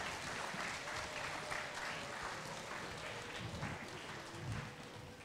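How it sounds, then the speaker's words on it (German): Children and adults at a children's university robotics event clap for a competing robot team, a sustained, even round of applause that swells slightly midway and tapers a little at the end. "Ein Applaus für den Roboter für Team Einstein."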